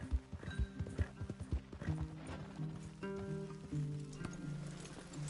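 Horses in Red Dead Redemption 2 clop over ground in a quick irregular run of hoofbeats, then slow as a whinny and snorts rise near and clear, with some faint in-game voices underneath.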